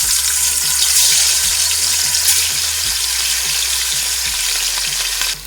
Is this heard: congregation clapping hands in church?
no